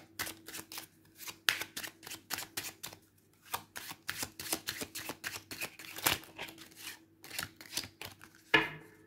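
Very thin tarot cards shuffled by hand, making a steady stream of light slipping and tapping strokes, close and quiet, ending in a slightly louder knock.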